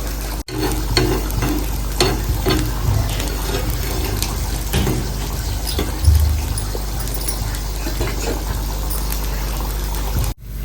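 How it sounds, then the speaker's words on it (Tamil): Beaten egg poured over a dosa cooks on a hot dosa pan with a continuous close sizzle and crackle, with occasional light clicks of a utensil and no clear speech. "முட்டை லைட்டாக வேகட்டும்"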